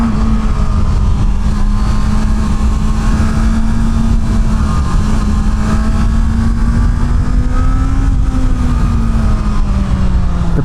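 A Honda CB650R motorcycle ridden hard on twisty roads, its engine holding a loud, steady droning hum that rises slightly in pitch before easing back, with constant wind rush and no talking.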